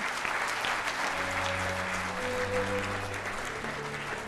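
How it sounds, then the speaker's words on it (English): Sustained audience applause fills a hall at a Literacy Heroes awards event, loud and steady throughout, with faint tonal background music running beneath the clapping. "Please give a huge round of applause to Jalaluddin Ghazi."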